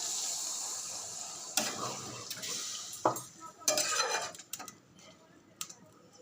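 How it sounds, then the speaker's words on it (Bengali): Paneer is stirred in a pan with a little water added, giving soft sizzling under scraping and clinking of a utensil against the pan, close and fairly quiet, with no talk. "পনিরগুলো দিয়ে ভালো করে একটুখানি মেরে একটু জল দিয়ে দিলাম"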